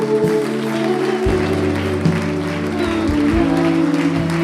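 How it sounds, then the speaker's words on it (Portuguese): A church congregation applauds in a steady, continuous patter beneath sustained music tones that carry through the whole stretch at a fairly loud level. "Você pode dar um forte aplauso ao Senhor Jesus?"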